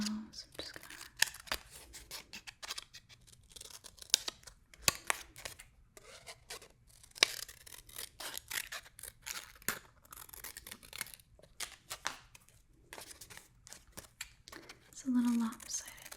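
Scissors snipping through paper for a face-craft heart, soft close crunches and rustles repeating irregularly, with a whispering voice between cuts.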